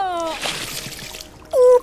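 Liquid splashes and spills in a comedy sketch, apparently from a small cooler worn around the neck, a short wet splatter between lines of speech.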